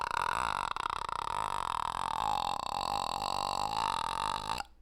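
A voice makes a long, continuous vocal fry creak imitating the croaking of the ghost kid from The Grudge, a raspy guttural rattle held close and loud for several seconds before cutting off.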